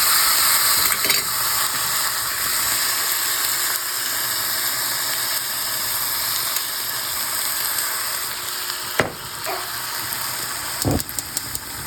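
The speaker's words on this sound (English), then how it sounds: "So I've got this nice and hot already. I'm going to put that steak in" A steak sears in a pan that is already hot, giving a steady, even sizzling hiss from start to finish, with a couple of light clicks near the end.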